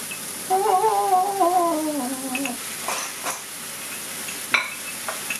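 Yaki onigiri rice balls fry and start to burn a little in a pan. A soft sizzle continues under a brief tonal hum, and several clinks and scrapes are heard as the rice balls are flipped.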